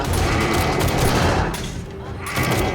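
Rapid automatic SMG fire in the game 7 Days to Die, a dense continuous burst of loud shots that eases briefly and then resumes, with no talk over it.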